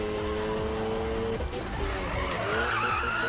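A race car's tires skid and squeal in Need for Speed, a continuous loud screech over a roaring, shifting engine, with a rising squeal in the final second.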